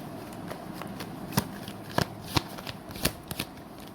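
Tarot cards being shuffled to draw a single card: soft rustling with several sharp riffling snaps spaced about half a second apart, close and fairly quiet, with no talking.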